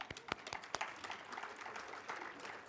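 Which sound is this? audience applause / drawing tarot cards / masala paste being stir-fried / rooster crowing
audience applause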